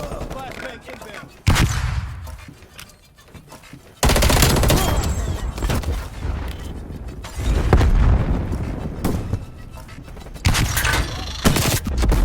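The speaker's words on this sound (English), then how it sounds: "Flashbang inbound." Loud bursts of game combat from Call of Duty Cold War, with a flashbang grenade going off. Sharp blasts, rattling gunfire and rumbling booms come in abrupt loud bursts with brief quieter gaps between them.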